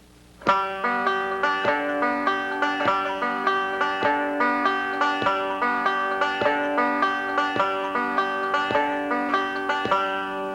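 Banjo picking a steady rolling alternating-thumb pattern with bright ringing notes, accompanied by regular soft foot taps on the first and fifth beats; close and clear, no voices.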